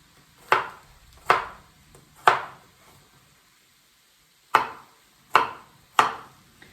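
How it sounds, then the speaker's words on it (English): Garlic cloves and onion chopped with a knife on a board for shakshuka: six sharp, close knife strikes in two groups of three, separated by a short pause, with no voices. "Meanwhile, we chop the garlic, 2 cloves of garlic."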